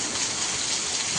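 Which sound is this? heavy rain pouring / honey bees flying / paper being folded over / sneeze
heavy rain pouring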